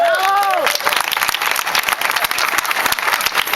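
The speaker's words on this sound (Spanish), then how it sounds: "Un aplauso." A crowd at an outdoor public talk and debate on citizen debt auditing in a Valladolid square bursts into loud, sustained applause right after a speaker's voice ends.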